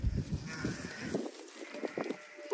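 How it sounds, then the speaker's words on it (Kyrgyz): A Georgian-line ewe with her lamb bleats nearby on a farm, a few short wavering bleats over a light background murmur. "Бул козулуу кой."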